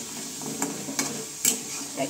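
Potatoes frying in a pan and being stirred, a constant sizzle broken by three or four scraping strokes, close and moderately loud, no talk.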